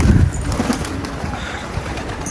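Domestic pigeons coo softly near a loft, low murmuring calls over a steady outdoor background hum, with a brief louder rustle at the start.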